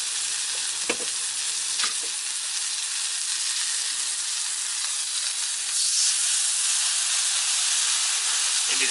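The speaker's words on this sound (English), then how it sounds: "We'll go ahead and put on our next steak." Filet mignon steak sizzling on a Blackstone griddle, a loud, steady, hissing sizzle heard up close that swells slightly near the end, with a couple of faint utensil taps and no talk.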